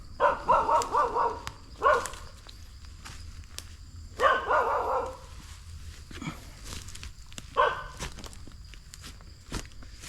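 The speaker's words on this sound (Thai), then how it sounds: "หมามันเห็นผมมันวิ่งมาเห่า" A dog barks in a few loud, separate bursts near a spot where bottle traps are being set for small fish, with quiet pauses and faint footsteps in between.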